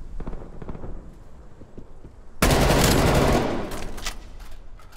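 A burst of Call of Duty gunfire bursts in suddenly and loudly over a quiet, faintly busy background, then sustains as rapid automatic fire before tapering slightly.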